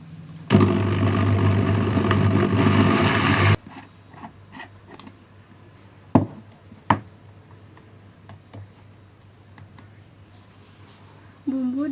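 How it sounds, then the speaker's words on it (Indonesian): An electric blender whirs loudly while grinding a spice paste for a white base seasoning. It runs in a single burst of about three seconds, then stops, leaving scattered clicks and knocks and a short whir at the very end. "Setelah itu, nyalakan blendernya hingga bumbu halus."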